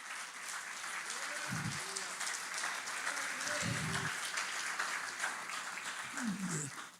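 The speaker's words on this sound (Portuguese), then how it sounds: "Quem pode aplaudir o Senhor aqui?" A church congregation breaks into sustained applause, a dense wash of clapping that fills the room and holds steady throughout, with brief low vocal murmurs from the crowd rising through it.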